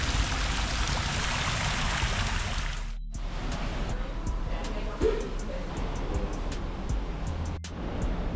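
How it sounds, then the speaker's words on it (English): Steady rushing water of a waterfall in Bangkok, Thailand fills the scene, a constant broadband roar with faint voices underneath. "Here's some beautiful waterfall scenery with some greenery"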